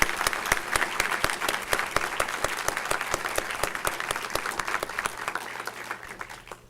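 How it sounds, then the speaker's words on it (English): An audience at a 2009 honors convocation gives students and faculty a steady, even round of applause, many hands clapping together at moderate distance and slowly thinning toward the end. "I'd like to ask for a round of applause for all of our great students and for the faculty who worked with them throughout"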